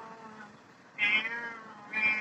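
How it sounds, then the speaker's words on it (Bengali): A cat gives two short, bright meows about a second apart, fairly close, over a low steady background hum. "দেখ দাদা ম্যাও ম্যাও করে"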